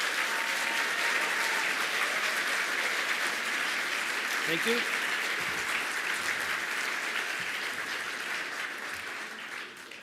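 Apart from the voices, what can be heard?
audience round of applause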